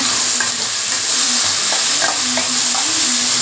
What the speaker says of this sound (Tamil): வெங்காயம் நல்லா வதங்கிடுச்சுங்க இப்போ தக்காளி போட்டுக்கலாம்